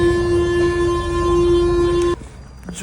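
A Paris metro train ride: a loud, steady tonal whine with rumbling rail noise that cuts off abruptly, leaving quieter carriage sounds.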